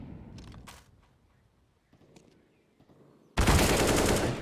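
SMG fire in the video game Counter-Strike on the Inferno map: faint, scattered shots give way to a loud, sustained close-range burst at the end.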